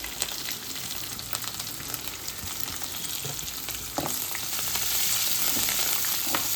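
Curry leaves and coriander sizzle steadily in a hot pan of tempering oil, a dense continuous crackle with occasional sharper pops, growing slightly louder toward the end; no voices.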